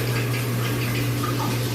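Shower water runs in a steady, dense hiss with an underlying low hum, close and continuous with no pauses.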